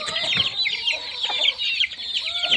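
Domestic hens and chicks in a backyard flock clucking and peeping continuously, with a busy layer of high chick calls over lower hen clucks, close and fairly loud.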